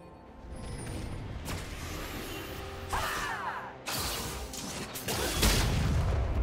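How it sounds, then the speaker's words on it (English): A turret crumbles in a League of Legends match, a run of booming crashes and grinding mechanical rumbles that swell and break off several times over about six seconds, loud and dense with no talk. "team's turret has been destroyed"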